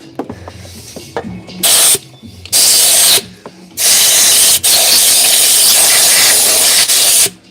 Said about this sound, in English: I wanna like spray this with some more air.